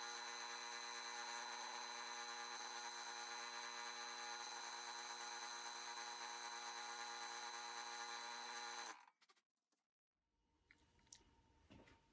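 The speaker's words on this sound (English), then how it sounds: "make sure your drill press is super, super level, and this process works really good" A steady, loud drill press motor whines for about nine seconds drilling pinholes in a scalpel handle, then abruptly stops, followed by quiet clinks and faint handling noises.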